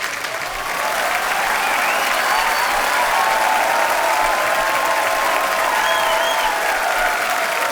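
Sustained, loud applause from a TV comedy show's studio audience, a dense even wash of clapping that swells in after a brief quieter start and holds steady throughout as a guest is welcomed.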